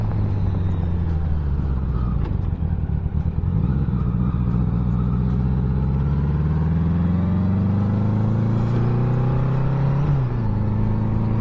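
1982 Honda Goldwing 1100 motorcycle accelerating, a close, loud engine drone whose pitch climbs steadily through the gears, dropping briefly at a shift near the end.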